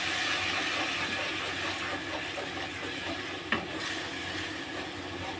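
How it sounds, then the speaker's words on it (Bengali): Spice masala sautéing with a splash of water in a pan, a steady broadband hiss and sizzle running the whole time with one brief clink near the middle, no voices. "মশলা ধোয়ার একটুখানি জল দিয়ে মশলাটা কষে নেবো ভালো করে।"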